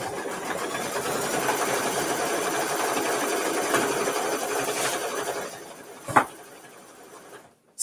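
A single-needle embroidery machine stitches a tack-down on a mini-quilt block with a steady, close, rapid whirring patter. It slows near the end, and a sharp knock follows just before it stops.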